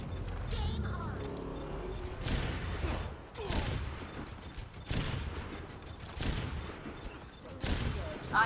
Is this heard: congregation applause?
no